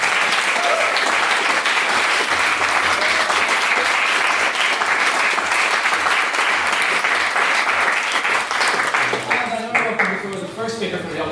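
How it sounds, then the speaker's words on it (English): A school debate audience gives sustained applause after a main speech in a motion on abolishing grammar schools; dense, even clapping fills the room continuously, tapering slightly near the end as voices begin. "want to give him another round of applause for the main speech"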